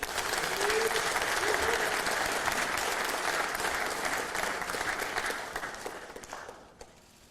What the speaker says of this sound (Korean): 환영과 격려의 박수 부탁드립니다.